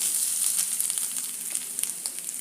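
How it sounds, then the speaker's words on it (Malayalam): A cup of grated coconut sizzles steadily in two spoons of hot coconut oil in a pan, a continuous close frying hiss with small crackles and no voices. "തേങ്ങ ഇതിലേക്ക് ഇട്ട് കൊടുക്കാം."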